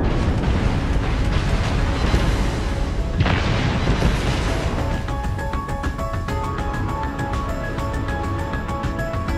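Torpedo hits exploding against a stopped, broadside enemy ship in the World of Warships naval battle game, played from a Gearing destroyer: loud, sustained rumbling blasts with a sharp burst near the middle, fading into steady game noise.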